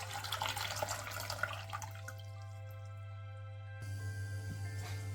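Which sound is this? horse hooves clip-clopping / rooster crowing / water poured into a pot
water poured into a pot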